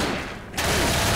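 Rapid gunfire bursts in the zombie shooter Left 4 Dead, dense and loud, with a brief dip at the start before the shots come back continuous.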